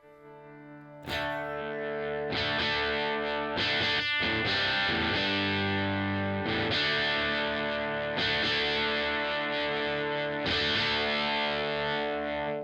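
Distorted electric guitar chords through an Electro-Harmonix Hot Wax dual overdrive pedal ring out loud and sustained, struck repeatedly with heavy overdrive, swelling from a quiet start into a thick, gritty tone as the guitar volume rolls up.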